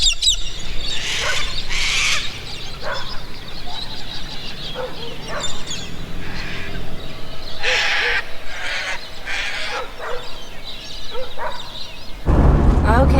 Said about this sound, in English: there's our wake-up call, all these really cool birds